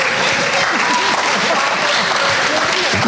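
An audience at a public workshop meeting applauding, dense sustained clapping from many hands filling the room at close range, with no pauses.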